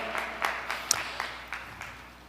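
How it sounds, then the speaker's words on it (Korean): Scattered applause from a Korean church festival crowd, a few sharp claps rising and fading in soft bursts over a couple of seconds, fairly distant and thin. "우리 하나님께 영광의 박수 한번 올려드리겠습니다."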